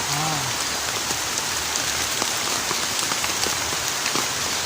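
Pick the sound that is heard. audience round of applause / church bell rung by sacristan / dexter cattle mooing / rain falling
rain falling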